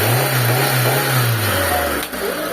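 Mitsubishi Lancer with a 4G15 engine revving loudly up close, a steady engine drone that rises and holds, then drops slightly near the end as the revs fall back.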